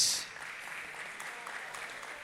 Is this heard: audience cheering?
yes